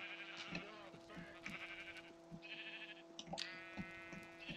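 Sheep in the video game Minecraft bleat several times in quick succession, clear synthetic baas standing out over a faint steady background tone.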